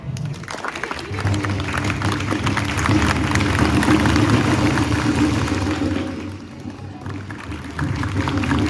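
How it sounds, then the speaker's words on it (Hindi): At a school Azadi Ka Amrit Mahotsav celebration in Delhi, an audience claps continuously, swelling and easing in loudness as a hand signal directs them, with a low rumble of crowd noise beneath. "जैसे जैसे हाथ ऊपर नीचे होगा वैसे वैसे आपका तालियों का आवाज़ का लेवल भी ऊपर नीचे होगा"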